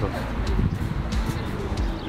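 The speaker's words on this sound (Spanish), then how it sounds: "Ahí andan las palomas" Racing pigeons in training for an 800 km race coo softly and steadily at close range, with a low murmuring rumble under voices talking.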